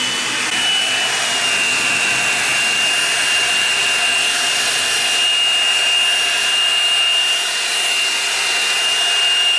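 Drybar Double Shot blow-dryer brush running at full blast, a loud, steady, close whooshing roar with a thin high motor whine held throughout without pause.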